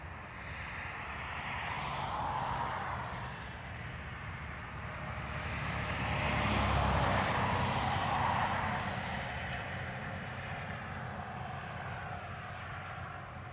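A Ryanair airliner moves around Dublin Airport in icy weather, a steady jet engine roar that swells, fades, then swells again to a peak before easing off, with no voices.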